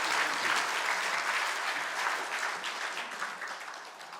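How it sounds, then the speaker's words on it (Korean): A church congregation at a Sunday morning service claps together in a sustained, even round of applause that gradually softens toward the end. "우리 다시 한번 박수하겠습니다."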